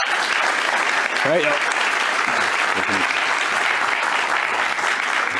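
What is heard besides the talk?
audience applause for conference panel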